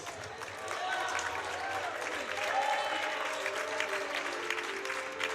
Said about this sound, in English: Now let's make some noise for your very Yellow Jackets.